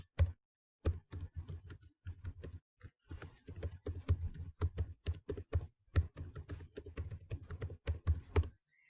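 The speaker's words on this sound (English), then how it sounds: "you're going to type your 6-digit number here" Rapid keystrokes on a computer keyboard, typed up close in quick bursts separated by short pauses, with no voices over them.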